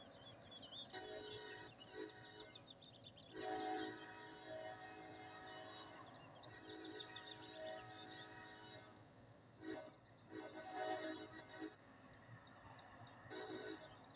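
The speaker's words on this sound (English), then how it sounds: "That's another train." A train passes with a loud rumble, its horn sounding in several long blasts.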